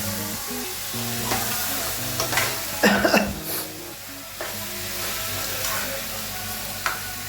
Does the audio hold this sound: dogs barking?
no